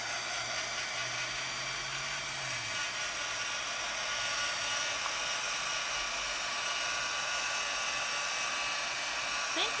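A hair dryer-like heat tool blows over texture paste on a card, a steady loud hissing whoosh that runs continuously throughout, close to the microphone.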